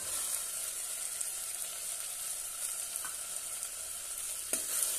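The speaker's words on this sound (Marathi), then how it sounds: "आणि छानपैकी एकत्र करून घेऊया। मस्तपैकी परतून घेऊया।" Rajma kidney beans with garam masala and salt stirred and sautéed in a pan, a steady soft sizzle with a few light scrapes of the spoon, fairly quiet and with no voices.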